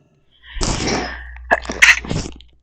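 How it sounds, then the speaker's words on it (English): A single loud, close sneeze: a breathy intake followed by a sharp burst and a trailing exhale, with silence before it. "bless me, I sneezed"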